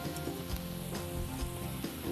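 Dry red wine poured into a pot of sizzling braised beef, a soft steady hiss and crackle of frying with faint stirring knocks, moderately quiet and close.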